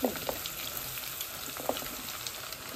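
Chopped onion sizzling in a hot pan, a steady broadband frying hiss with a few brief sharper crackles and light clatter near the start and middle, no voices.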